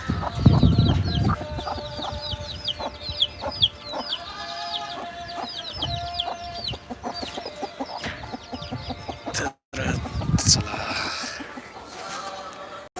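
Chickens in a wire-mesh enclosure on a goat farm cluck and chatter repeatedly, close and lively, with brief overlapping calls, low handling noises and a short break partway through.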